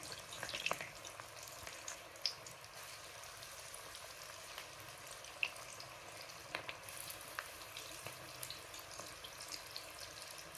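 Onion pakoda fry in hot oil with a steady, soft sizzle dotted with small pops and crackles, quiet and close, with no talking.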